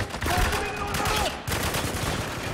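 Rapid automatic gunfire in a military shooter video game, Spec Ops: The Line, a dense continuous burst with a brief pause and then more firing.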